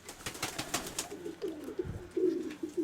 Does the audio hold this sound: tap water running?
no